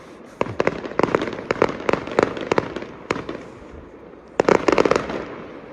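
Bonfire night fireworks bursting nearby in rapid irregular volleys of sharp bangs and crackles, with a dense cluster of explosions near the end.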